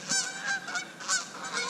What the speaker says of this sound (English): Golly, at the geese.